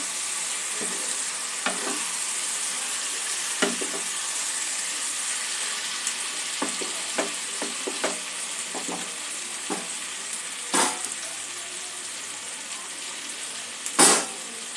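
Chicken frying with spices in a pan for chicken masala, a steady sizzle broken by irregular scraping strokes of a spatula and a louder hiss near the end, close up with no talk.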